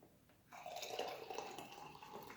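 Liquid dry wood stain pouring off dyed paper tubes, a steady trickling wash that starts abruptly and runs continuously at moderate level, close by with no talking.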